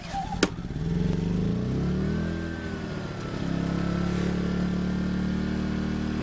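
Yamaha inverter generator engine starting with a pull and then running steadily, a close, continuous mid-pitched motor drone after a sharp start, with smart throttle off.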